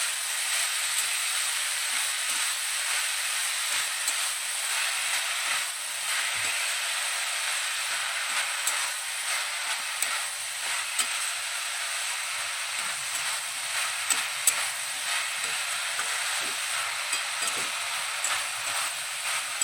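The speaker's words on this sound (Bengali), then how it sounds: "মোচাটা এবার আলু এবং বাকি মশলার সঙ্গে খুব ভালোভাবে নেড়ে চেড়ে মিশিয়ে নেব" Banana flower stir-fried with potatoes and spices, a steady, moderately quiet sizzling hiss running throughout with occasional faint clicks of stirring.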